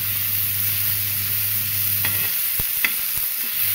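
Tomatoes and green chillies fry steadily in hot oil for a rustic village-style chilli-tomato thecha, a continuous close sizzle with a few soft stirring knocks near the end.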